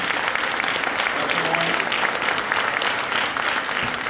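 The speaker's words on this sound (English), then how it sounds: "Give them a round of applause for being here." A high school band concert audience claps continuously and loudly for several seconds, a dense wash of applause with faint voices mixed in.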